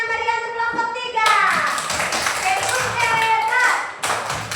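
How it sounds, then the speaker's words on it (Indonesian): A class of second-grade primary school children claps for a group in a classroom, beginning abruptly after an adult speaks, with dense lively clapping of many small hands close by and children's voices mixed in. "Tepuk tangan yang meriah untuk kelompok 3."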